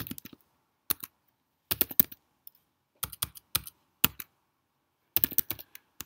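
Keys on a computer keyboard clatter in short bursts of rapid taps separated by brief pauses while an email is typed, close and fairly quiet with no talking.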